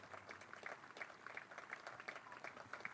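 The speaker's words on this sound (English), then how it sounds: "Lewis Reese gets this applause as Anuj Dal comes out to bat." Cricket spectators applaud a departing batsman at a county match, a thin, steady patter of scattered clapping heard from a distance for a few seconds.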